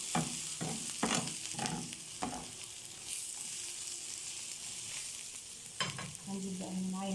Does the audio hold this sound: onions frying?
yes